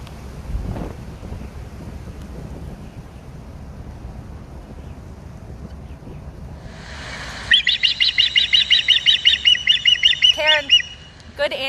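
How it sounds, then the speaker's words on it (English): An osprey, a large water-associated hawk, gives a series of about a dozen rapid, evenly spaced high whistled chirps in the second half, fairly clear over light wind noise, followed by a couple of brief further calls. "This is a big hawk called an osprey."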